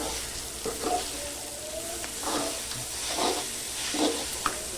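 Grated raw mango sizzles and fries in a hot pan for village-style mango pulihora, a steady close hiss with occasional stirring scrapes and no talking.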